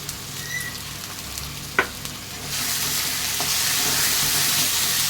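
Cumin, turmeric and salt hit hot ginger-garlic paste in a pan, giving a steady sizzle that swells into a louder, continuous frying hiss with a few stirring scrapes and taps.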